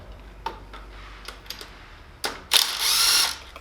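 Ratchet working loose bolts on a Genuine G400C motorcycle cover, with scattered soft clicks followed by a louder rapid ratcheting burst near the end, close and with no talk.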